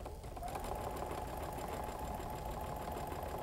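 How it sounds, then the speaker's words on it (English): A sewing machine stitching quilt fabric for an AccuQuilt GO! Jewels & Gems quilt runs in a steady, even mechanical whir. It is moderately quiet and continuous for the whole clip, with no talking. "While I sew."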